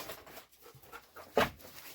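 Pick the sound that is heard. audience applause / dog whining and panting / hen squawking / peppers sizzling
dog whining and panting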